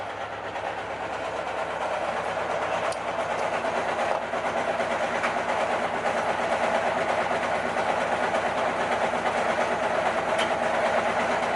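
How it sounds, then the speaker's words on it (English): A running washing machine gives a steady, continuous mechanical whir and rumble with faint rhythmic clicking, even in level throughout and heard indoors, with no talking. "The washer's going right now."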